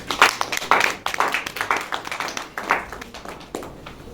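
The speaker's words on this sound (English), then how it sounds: "A round of applause for Mr. Shabam." Audience at a cycling criterium press event claps in uneven bursts, with sharp, close hand claps overlapping for about four seconds before tapering off.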